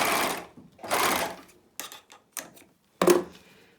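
An overlocker with a cutting knife sews the edge of a fabric face mask in short, rapid bursts of mechanical whirring, with quieter taps and clicks between the runs.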